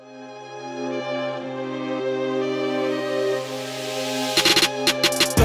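A song opens with steady sustained synth tones that build gradually before punchy drum hits come in near the end.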